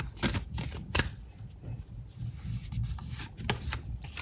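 Tarot cards are shuffled and drawn by hand, giving a close, continuous papery riffle with sharp flicks and slaps. No voices are heard.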